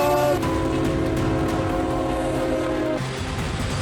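A train runs along the tracks with a sustained horn blast sounding over a steady rolling rumble, the tone cutting off near the end while the rumble continues.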